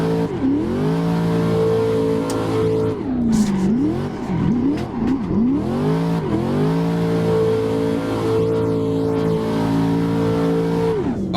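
Corvette C6 in Assetto Corsa drifting under steady throttle, engine holding a loud, sustained high-revving drone that dips and surges through quick lift-offs and re-applications before settling back into a long even rev, with faint tire squeal.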